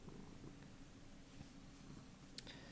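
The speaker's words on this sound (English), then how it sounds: "purring" Killian, a pet cat, purrs in a steady, low, continuous rumble close by, quiet and unbroken, with one tiny click near the end.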